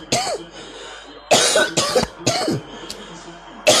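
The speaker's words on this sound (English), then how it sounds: "I just coughed like I felt the blunt too" A person coughs in a series of sharp, harsh bursts, one early and then several close together, loud and near with short pauses between them.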